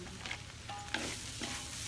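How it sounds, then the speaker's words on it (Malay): Mee goreng mamak noodles stir-frying in a pan with bean sprouts added last, a soft continuous sizzle with light scraping and stirring strokes, fairly quiet and close, with no voices over it. "Akhir sekali barulah kita letak tauge."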